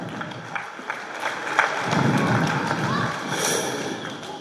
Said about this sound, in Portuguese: dar uma salva de palmas para o nosso gabinete de comunicação